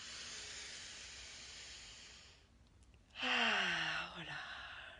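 Deep exhale during a laughter yoga breathing exercise, a long breathy release that fades out, then a short pause and a louder voiced sigh with a falling tone, close to the microphone.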